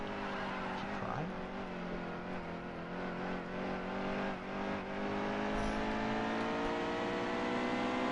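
A race car engine drones steadily in a stock car racing sim at Bristol as the No. 78 car dives onto pit road, with harmonic engine tones shifting down and constant loud roar throughout.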